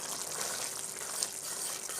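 Tamarind chili mix boils in a pan with a constant, fairly quiet bubbling hiss and tiny pops, heard alone without any voices.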